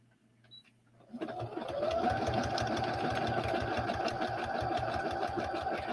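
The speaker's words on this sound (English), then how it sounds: "I don't usually sew paper on this sewing machine," A sewing machine stitches through paper, starting after about a second of quiet and then running steadily with a fast, even mechanical chatter, close and fairly loud.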